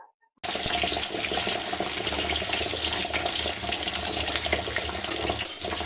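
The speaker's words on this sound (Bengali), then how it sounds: "পরিষ্কার ভাবে, জল পাল্টিয়ে পাল্টিয়ে আমি ধুয়ে নেবো।" Potatoes are rinsed clean in water in a kitchen sink, the water changed repeatedly for a mutton and potato dish; a steady, close, continuous rush of running and splashing water fills the whole stretch after a brief silent start.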